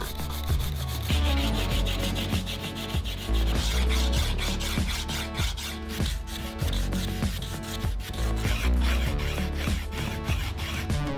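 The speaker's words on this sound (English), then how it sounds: "I give the piece its final sanding by hand using 220 grit sandpaper." Steady back-and-forth hand rubbing of 220-grit sandpaper against wood, close and continuous, with a brisk, even rhythm of strokes and no voices.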